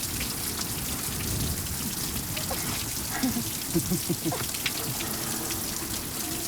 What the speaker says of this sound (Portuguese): A chuva veio.